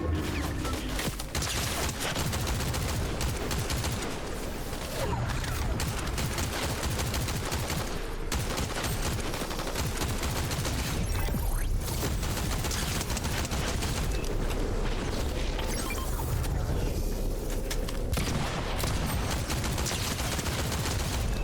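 Gunfire in the video game Fortnite: dense, continuous bursts of shots and rapid automatic fire that run unbroken through the whole stretch at an even, moderately loud level.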